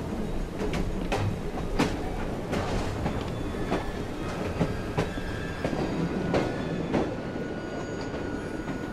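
A train in the video game Assassin's Creed Syndicate rolls along with a continuous rumble, punctuated by sharp rhythmic clicks and clacks of wheels over rail joints roughly every half second to second, loud and near, without speech.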